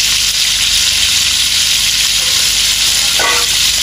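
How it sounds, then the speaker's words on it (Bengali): Fish pieces frying in a pan make a loud, continuous hiss and sizzle, with one brief burst of spattering near the end and no talking. "তাই মাছ ভাজি হইতে থাকো"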